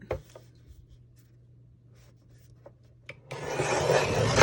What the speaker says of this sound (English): I'm going to go ahead and use my trimmer actually to trim up some of these edges